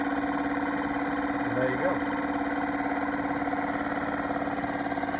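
Yamaha 2.5 hp four-stroke outboard motor, rebuilt with a new ring, idling steadily with an even mechanical chug while someone speaks briefly over it.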